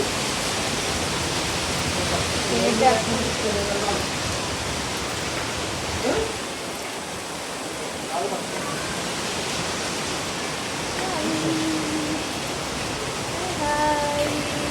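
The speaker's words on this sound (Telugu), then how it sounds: "వర్షం మాత్రం బాగా ఎక్కువ పడుతుంది" Heavy rain pours in a dense, steady hiss that fills the whole scene, loud and continuous, with faint voices occasionally underneath.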